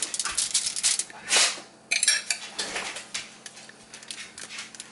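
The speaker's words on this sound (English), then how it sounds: "my dog is here making all the noise behind me" A dog barks in the background of a kitchen while a stuffed zucchini side dish is being prepared, with irregular bursts mixed with clattering dishes and utensils.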